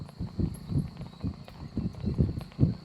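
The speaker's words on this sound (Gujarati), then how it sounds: "વાહ ઘોડા વાહ" Horse hooves clip-clop in a steady, uneven walking rhythm, close and fairly loud, with soft low thuds and faint background noise.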